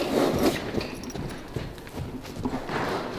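A horse's hooves thud and clatter on the soft ground of an arena in an uneven galloping rhythm, fairly close, with a faint voice briefly in the background.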